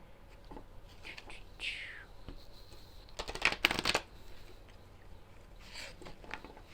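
A tarot deck being shuffled close up, soft riffling and sliding cards with one louder, brisk burst of shuffling in the middle and quieter handling before and after.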